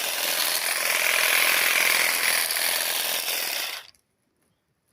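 A Procraft cordless trimmer cutting conifer shrubs buzzes loudly and steadily up close for nearly four seconds, then cuts off abruptly into silence.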